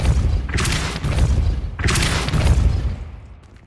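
A Depulso spell cast in the Hogwarts Legacy video game, two heavy booming blasts with rumbling thuds, loud and close, the second fading out at the end.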